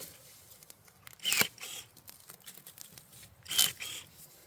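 Pruning shears snip Korean angelica tree (chamdureup) stems close to the base, two sharp crisp cuts about two seconds apart, close and fairly loud over quiet outdoor background.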